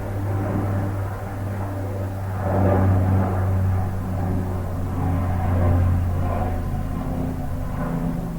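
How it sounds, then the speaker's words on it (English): An airplane passes overhead outdoors, a low, steady rumbling drone that swells louder twice as it goes by, with no talking. "Just the plane was coming over"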